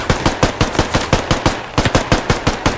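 Rapid automatic gunfire from a squad-based shooter video game rattles loudly in quick repeated bursts, roughly a dozen sharp shots in under three seconds, with no voices over it.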